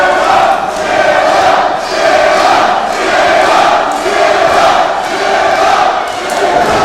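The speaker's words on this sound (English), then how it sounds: "this crowd, sold out to capacity for the Walker Texas Lawyer Arena, is trying to get behind the main one" A sold-out wrestling arena crowd roars and cheers in loud, rolling swells that rise and fall in a rhythmic pattern, filling the hall continuously.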